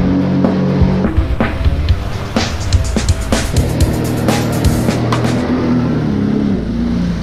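A boat engine throttles up to tow a rider on the water, a loud, rough motor roar that swells and surges with repeated revving bursts and splashy noise, continuing steadily throughout.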